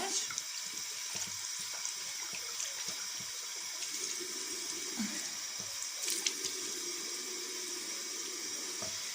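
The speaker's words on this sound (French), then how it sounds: "je vais commencer par me mouiller le visage" Water running from a tap and splashing as a face is wetted at a sink, a steady faint hiss with small irregular splashes close by.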